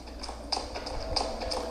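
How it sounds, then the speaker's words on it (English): A horse gallops in the Shadow of the Colossus video game, its hooves clip-clopping in quick, uneven beats that sound fairly close over a low background hum. "my horse is running away from me"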